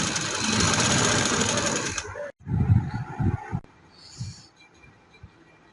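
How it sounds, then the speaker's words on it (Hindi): An electric sewing machine runs a double stitch along a trouser seam, a loud close whirring drone for about two seconds, then cut off. Quieter fabric handling and a faint voice follow. "अब मैं ये डबल सिलाई लगा रही हूँ"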